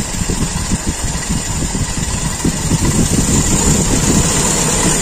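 Toyota Kijang carburetor engine idling at low revs, a steady close rumble with a slightly uneven pulsing beat and rising a little toward the end, no talking.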